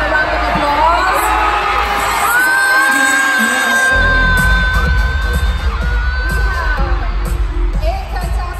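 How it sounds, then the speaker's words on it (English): At a fan event, an audience welcoming contestants onstage raises loud crowd noise with cheering, shrill whoops and shouting, a busy roar that stays strong throughout alongside voices. "Let's welcome them with a round of applause."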